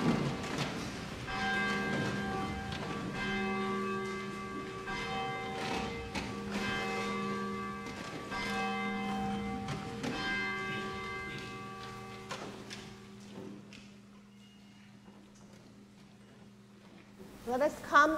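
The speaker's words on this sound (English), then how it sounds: "the ringing of the bell" Church bell ringing before a Sunday worship service, repeated sustained strikes with long ringing tones that layer and overlap, then fade out toward the end.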